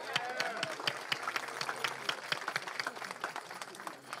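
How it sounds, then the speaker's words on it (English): Crowd applause rings out at an outdoor ceremony renaming Kennedy Park as Coach Lorenzo Hamilton Sr. Park, steady dense clapping lasting throughout with a few voices mixed in. "Let's get a round of applause for that."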